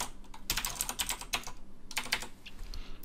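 Data being typed on a computer keyboard, bursts of quick, light key clicks with short pauses between, close and fairly quiet, no voices.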